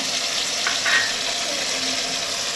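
Ginger, cumin and chili pastes frying with chopped tomato in a pan, a soft continuous sizzle with faint stirring scrapes, moderately close and steady.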